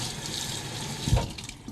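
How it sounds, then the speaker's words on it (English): A kitchen faucet runs water steadily while a microfiber cloth is rinsed under it, with a soft splash and thump partway through as the cloth moves in the stream. "You just go ahead and run it underneath your faucet."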